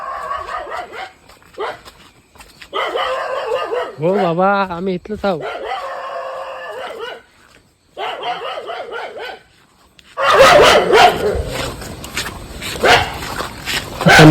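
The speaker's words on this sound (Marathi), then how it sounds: "पोचलो घराजवळ कुत्र्यांचा आवाज बघा" Dogs bark and whimper in a burst near the end, loud and close, near a house, after a stretch of people talking.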